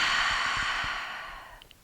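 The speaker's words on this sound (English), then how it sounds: "Take a deep inhale, open mouth exhale." A deep, slow open-mouth exhale from a yoga flow instructor, one long airy breath that starts fairly close and full, then tapers and fades over about two seconds, with no talking.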